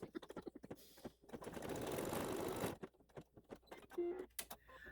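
An embroidery sewing machine stitches out a quilt block, giving rapid mechanical clatter and a sustained buzzing run in the middle, with scattered clicks before and after, fairly quiet and close.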